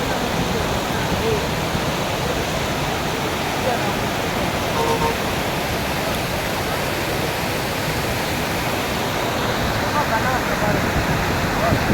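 Floodwater of the Tegeta river in Tanzania rushes in a loud, dense, unbroken roar during a flash flood, with no pauses for the whole stretch.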